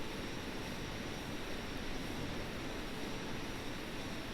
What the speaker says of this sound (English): that jet engine sound is so much better